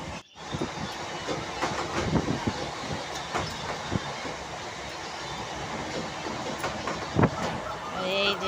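An early-morning train runs along the rails, heard from inside a nearly empty carriage. It gives a steady rumble with scattered wheel clicks and clanks, and a few sharper knocks stand out.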